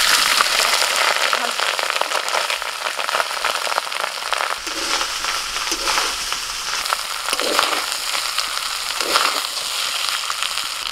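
Rice tipped into hot oil with fried cumin for jeera rice gives a loud, steady, bright sizzle that crackles on without pause, with no voices over it.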